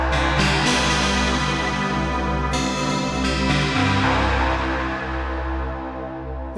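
A morphed wavetable tone from Zebralette 3 sustains loudly over a deep held bass, its bright upper timbre shifting and swelling as notes change, heard alone without talk.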